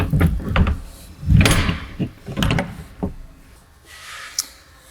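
A door fitted with a wireless sensor is opened and shut, giving several sharp thuds and clunks close by, spaced over a few seconds, followed by a quieter tail with a small click.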